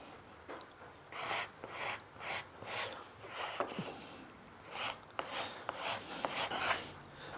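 A hand scraper rasps across wood veneer on a hexagonal box to lift small squares of sticky tape, with short, close scraping strokes in uneven bursts and a few light clicks.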